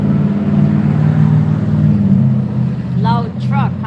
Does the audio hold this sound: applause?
no